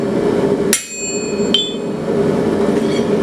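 A hammer strikes forged metal on an anvil, two sharp ringing clangs about a second apart, then a fainter third tap, over a steady hum of shop noise.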